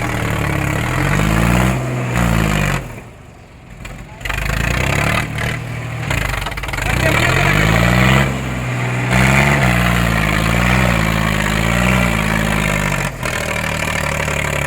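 A Sonalika 50 and an Eicher 551 tractor strain against each other in a tug-of-war on loose dirt ground, their diesel engines loud and close, labouring and revving in waves with brief dips, under crowd noise.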